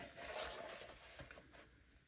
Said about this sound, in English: I'm going to trim this.